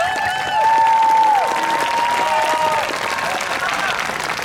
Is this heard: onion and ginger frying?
no